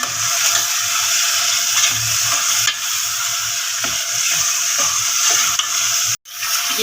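A spoon scrapes and stirs tomatoes, mixed spice and salt in a hot pan. Steady sizzling runs throughout with repeated rhythmic scraping strokes, close and fairly loud, then ends in a sudden clunk near the finish.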